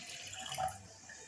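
Water poured into a prepared bottle for a cucumber detox drink makes a brief, close splashing trickle that swells and then fades within about a second.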